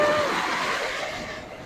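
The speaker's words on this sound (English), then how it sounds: "all of this almost got ruined by that one big wave" Ocean surf washes onto a beach in Mexico as a steady, broad rush of water that slowly fades, close and fairly loud with no voices over it.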